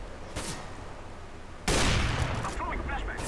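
Dense gunfire in the CS:GO video game, a quieter stretch with a single sharp shot giving way to a loud, sustained burst of overlapping shots and clatter.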